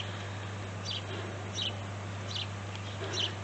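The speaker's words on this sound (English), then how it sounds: "Little sparrows." Small sparrows chirp in a few short, faint bursts outdoors, spaced about a second apart over a steady low hum.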